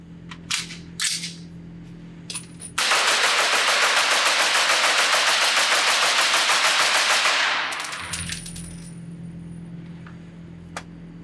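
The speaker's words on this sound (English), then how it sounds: "Let's put 30 rounds through this thing as fast as I can" Knight's Armament SR-30 .300 Blackout rifle firing 30 rounds in a rapid, steady string of loud, sharp shots lasting about five seconds outdoors at a range, then ringing quiet.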